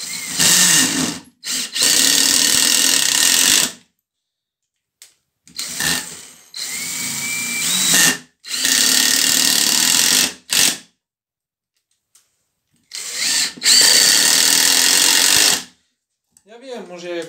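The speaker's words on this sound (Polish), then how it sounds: "może ja jakoś źle strzelam tą zakrętarkę, może źle wkręcam." An impact driver drives Essvedrive wood screws in four loud, close bursts of rattling, hammering whir, each lasting a couple of seconds and separated by silent pauses.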